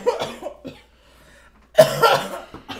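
A person coughs loudly and close, a cluster of harsh coughs, a short pause, then a second louder burst of hacking coughs.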